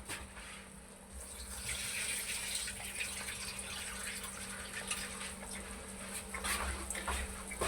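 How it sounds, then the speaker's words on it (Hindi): Water pours and gushes steadily as it is drained off soaked rice during home cooking of white chicken pulao, a continuous close splashing flow with no talk. "पानी निकाल देता हूँ।"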